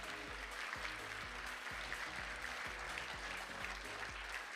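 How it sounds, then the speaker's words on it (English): Steady audience applause at a university fashion show, a dense continuous wash of many hands clapping at an even level throughout, with thumping low music pulses running beneath it. "Round of applause."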